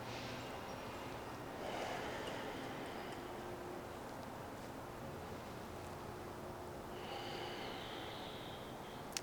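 Slow, steady breaths from a yoga practitioner resting between bridge poses in a beginner Hatha class, soft airy swells rising and falling over a quiet room hiss, with no talking.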